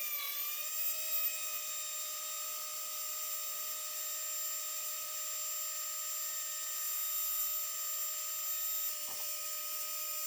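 A rotary tool drilling a divot into a Swiss Army knife, a continuous high-pitched dentist-drill whine held steady for the whole stretch, close and unbroken, with a brief dull knock near the end.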